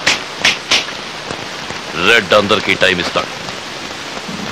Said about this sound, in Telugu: వర్షం ఆగేలోగా